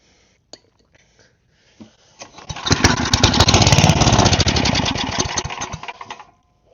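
Small snowblower engine, primed with a shot of carb cleaner, cranks after a few faint clicks, then catches and sputters roughly for about three seconds before dying away, loud and close.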